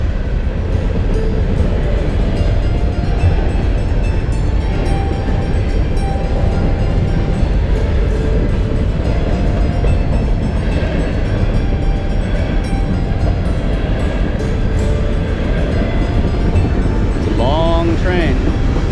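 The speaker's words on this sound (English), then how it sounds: "While we're waiting here for this long train to go by" A long freight train rumbles steadily past nearby, a continuous heavy roar of rolling cars with faint squeals near the end.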